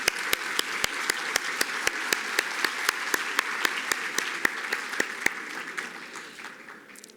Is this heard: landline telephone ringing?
no